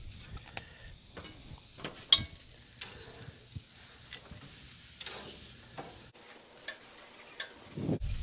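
Pork ribs sizzle quietly on a grill, a low steady crackle broken by scattered sharp pops and taps as they are turned, one louder crack near the start and a muffled handling noise at the end.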